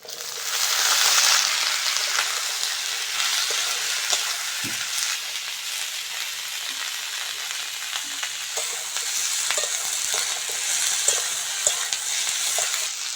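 Potatoes and onion stalks fry in hot oil with already browned onions, a continuous close sizzle broken by occasional scrapes and clinks of a spatula stirring the pan.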